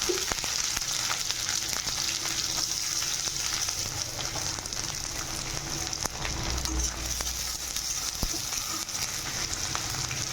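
Chopped onion frying in oil in a kadai for a chicken curry, a dense, continuous close sizzle with a steady crackle and occasional faint stirring clicks throughout.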